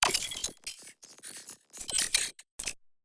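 Layered sci-fi mechanical effects built from granular metal recordings, with small accent beeps: bursts of bright metallic clinks and whirring chatter, loud and close, separated by short silent gaps.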